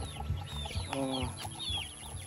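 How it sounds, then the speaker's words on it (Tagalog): Chickens clucking close by, several short overlapping calls over a low steady background hum, no talking. "Ito yung mga alaga niyang manok guys."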